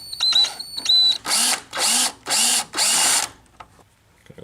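A small drill bores a tiny hole during a timing belt rebuild, sounding in five short, evenly spaced high-pitched whirring bursts close by, after a few faint clicks and a whine, then falling quiet.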